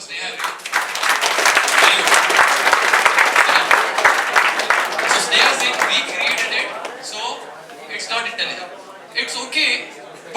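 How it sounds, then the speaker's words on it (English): Students at a classroom coding workshop give a participant a loud round of applause, dense clapping held for several seconds before thinning out, with a few voices and chuckles as it dies away. "round of applause for Sneha"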